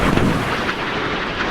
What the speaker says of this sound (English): 5-inch guns, that must be.